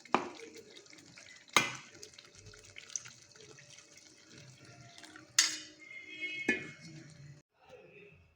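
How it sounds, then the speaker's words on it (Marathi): Turmeric-tinted water from steamed moth beans is poured into a curry pot, giving a trickling, splashing flow broken by a few sharp clinks of a utensil against the pot. "आता हे पाणी सोडून देऊ आपण त्यामध्ये हळदीचं"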